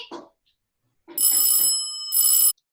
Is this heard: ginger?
no